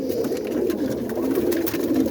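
Young Boston ripping roller pigeons in a draft-free loft coo and murmur together in a steady, close, continuous chorus, with soft wing shuffles and scratchy movement over it.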